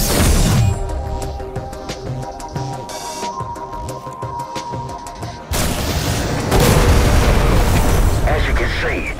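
In the video game Spacelords, an Aleph gem is shot and explodes: a loud booming burst with a broad crackling tail, followed by dense, noisy game effects.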